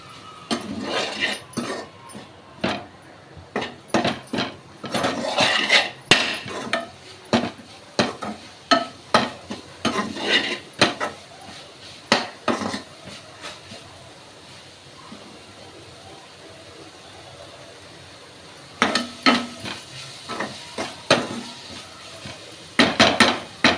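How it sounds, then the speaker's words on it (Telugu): Okra masala curry is stirred in a pan with a spoon, producing irregular scraping clinks in busy clusters, then a quiet pause before another burst of stirring, all close up. "ఇప్పుడు వీటిని ఒకసారి బాగా కలుపుకోవాలి."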